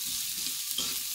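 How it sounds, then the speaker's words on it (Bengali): Sliced onions fry in hot oil for a Bangladeshi aloo bhorta, giving a steady close hiss and sizzle with faint crackles. "এখন এই তেলের মধ্যে একটু পেঁয়াজ দিয়ে দেব।"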